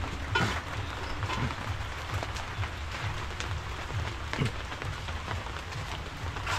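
Steady rain patters and hisses on surfaces, with a few louder drips and thumps scattered through.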